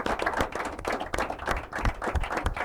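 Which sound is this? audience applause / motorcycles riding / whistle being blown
audience applause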